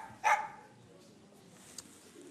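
Small dog giving a single short, sharp bark followed by faint whimpering and a quiet yip, close but soft, with a person speaking around it.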